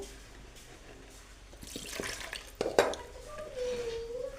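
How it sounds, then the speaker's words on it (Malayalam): Curry leaves dropped into onions frying in a pan for a jackfruit-seed and mango curry give a brief crackling sizzle with a few utensil clinks, close and moderately loud. "സവാള ഒന്ന് മരിഞ്ഞു വരുമ്പോഴത്തേക്കും എന്ത് ചെയ്യുന്നു നമ്മളേടെ കരിവേപ്പില ഇട്ട് കൊടുക്കുന്നു"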